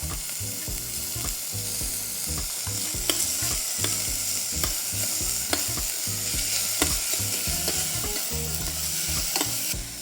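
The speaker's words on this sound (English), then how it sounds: "So once the oil is warm, we're gonna add the onion. We're gonna add some onion here and some garlic." Chopped onion and garlic sizzle in warm oil, a constant close hiss broken by rhythmic scraping strokes of stirring and a few sharp clicks.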